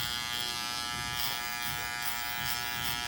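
Electric hair clipper fitted with a quarter guard cutting hair during a bald fade, a steady close buzzing hum running without pause.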